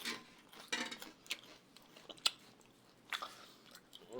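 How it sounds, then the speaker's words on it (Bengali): Someone bites and chews chonga, a fried snack, close by. Crisp crunching bites come in uneven bursts with quiet pauses, and occasional light clinks of dishes sound in the background. "এই যে আমাদের একজন খাচ্ছে দেখো, এই যে চঙ্গা খাচ্ছে"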